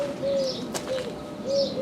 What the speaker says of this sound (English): You got all the birds singing.